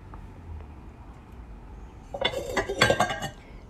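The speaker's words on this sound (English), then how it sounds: "So I did grab these bowls. And I'm just going to wash them up." Thrifted bowls being washed, clinking and knocking against each other in a short, close cluster of bright ceramic clatter after a quiet stretch of faint background noise.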